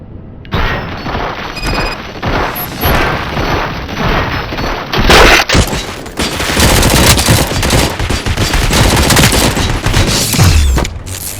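Sustained gunfire in the RoboCop Rogue City video game, rapid automatic bursts and heavy booming shots overlapping in a loud, nearly continuous barrage.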